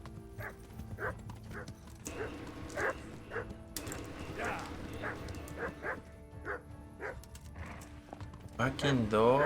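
A dog in Kingdom Come: Deliverance barks in short repeated bursts, fairly close, over a quiet ambient background with some movement sounds, ending in a louder yelping flurry.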